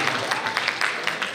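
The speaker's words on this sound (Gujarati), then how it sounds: "જોરદાર તાળીઓથી." An audience at a women's gathering and festival claps to welcome guests, a brief burst of steady, moderately loud applause.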